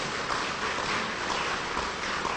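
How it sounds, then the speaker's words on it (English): Audience at a casino gaming presentation clapping, a dense, even patter of many hands heard from a distance, steady and moderately faint throughout. "You don't have to clap for all these people."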